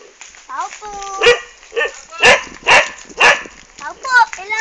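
A dog barks repeatedly, sharp close yips and barks spaced through the moment, mixed with whimpering, while a person talks nearby between the barks.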